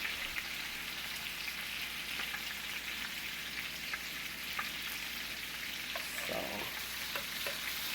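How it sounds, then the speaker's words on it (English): Salisbury steak patties sear in a pan, a steady close crackling sizzle with occasional pops and spatter throughout, no voices. "You just want to get a nice sear on them."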